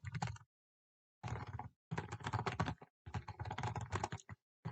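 Bursts of typing on a computer keyboard, several rapid clattering runs of keystrokes separated by short pauses, close and clear with no talk.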